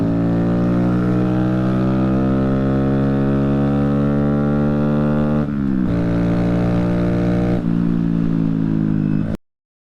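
A 2022 Honda Grom motorcycle with a modified exhaust and air intake revs loudly and steadily, its engine note climbing through the range, dipping briefly twice, then cutting off sharply at the end.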